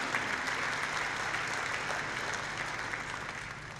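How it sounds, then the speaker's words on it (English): An audience claps steadily for the entire stretch, a dense, even wash of applause that fades only slightly toward the end, with no voices over it. "big round of applause"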